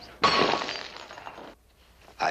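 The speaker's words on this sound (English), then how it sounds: "But I'm afraid I dropped my glass." A drinking glass drops and shatters in a 1961 American western television drama, a sudden bright crash of breaking glass that rings out for over a second and then fades, with a brief further clink at the end.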